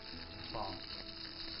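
Oil frying in a pan, a faint steady sizzle with soft crackles throughout the short stretch.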